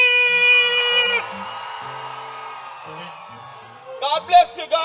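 A gospel concert crowd in St. Kitts and Nevis screams and cheers, a sustained roar under sung or held tones that fades, then sharp bursts of shouting return near the end.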